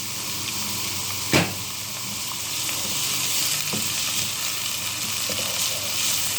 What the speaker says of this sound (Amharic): ይኸው ሽንኩርት እንደዚህ እያቁላላሁ ነው።